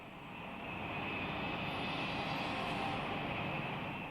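Japanese warplanes flying from bases in Formosa toward the Philippines, a steady propeller-engine drone that builds slightly and then holds, fairly faint and continuous.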